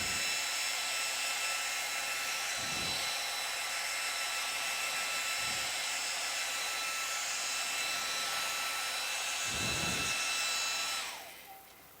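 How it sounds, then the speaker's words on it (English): A hair dryer blows steadily on a painted dot journal page to dry the paper, a loud continuous whine with brief bumps as it moves, then switches off near the end. "Dry the backside."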